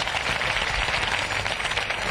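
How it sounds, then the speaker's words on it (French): Studio audience applause on a French evening television show, a steady, dense wash of clapping heard close and loud throughout, with no other sound standing out. "Je vous demande d'applaudir Ambroise Guélec, qui est secrétaire d'État à la mer."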